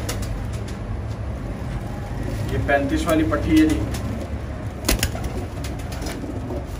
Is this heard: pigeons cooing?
yes